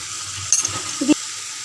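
Cumin and chilli powder sauté with a curd sauce in a pan, a short burst of soft sizzling with two quick scraping stirs of a spoon, close and brief.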